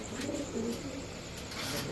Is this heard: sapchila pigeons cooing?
yes